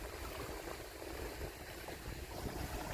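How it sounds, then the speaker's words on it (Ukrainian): Choppy river waves on a cold, windy day, a steady broadband wash of water lapping and splashing close by, continuous and fairly loud with no speech. "Хвилі прямо як на морі."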